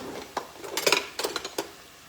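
Dry pasta goes into a pot for an Amatriciana, a few quick clattering knocks and rattles against the metal, close and fairly loud, bunched in a short burst with no talking.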